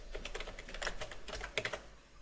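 Rapid keystrokes on a computer keyboard, irregular clusters of close, crisp clicks tapping out text with a few heavier strokes near the end, no voices.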